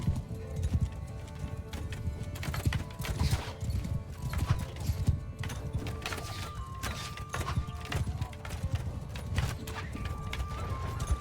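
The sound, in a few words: horses galloping in video game Mount & Blade II: Bannerlord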